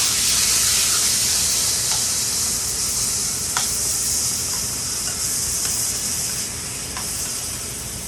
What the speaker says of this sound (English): Adding some vegetable stock.